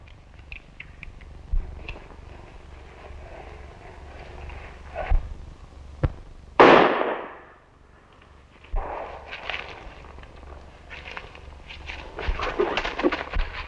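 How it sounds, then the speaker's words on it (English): A single sharp gunshot cracks out in an old western film scene, loud and abrupt with a short decaying tail, set among faint background noise, rustling and scattered movement. "I tell you, I heard a shot"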